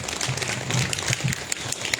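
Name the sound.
audience applause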